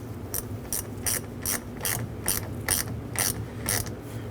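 Ratchet wrench tightening the positive battery terminal clamp on a 2007-2021 Toyota Tundra 4.7L, a steady series of about nine close, crisp clicking strokes at an even rhythm over a low background hum.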